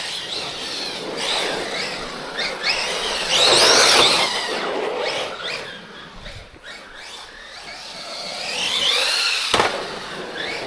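A Redcat Valkyrie 4S RC monster truck driving outdoors: high-pitched electric motor whine rising and falling as it accelerates and slows, with bursts of revving and a couple of sharp knocks, close and loud.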